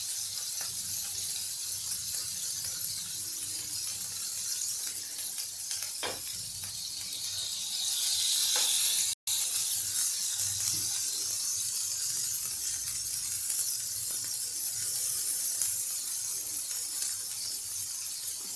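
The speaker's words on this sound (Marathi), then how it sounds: "हे पाणी असं सरसर झालं पाहिजे" Water splashed onto a hot, oiled dosa tava hisses loudly and steadily, a broad close steam sizzle that swells midway and then drops out for a moment. No talking.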